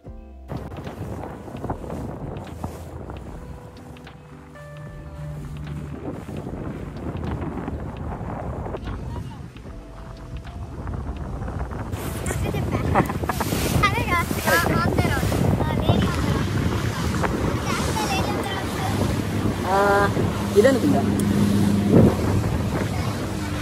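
Tour boat ride near Perast, Montenegro, with engine drone and heavy wind buffeting the microphone, growing louder and rougher in the second half as the boat moves, with people talking now and then.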